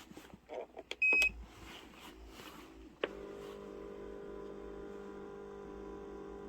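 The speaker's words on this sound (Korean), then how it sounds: "겁나 오랜만에 해보는 다리 마사지기. 작동." An electric leg massager starts up after a few soft clicks and a short beep, then settles into a steady low electric hum and buzz that continues close by without talk.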